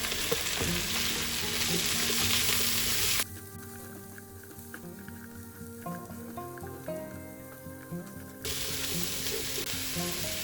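Mushrooms frying in a pan over slow heat: a loud close sizzle with spoon scrapes, which drops to a quieter crackle for several seconds before the full sizzle returns.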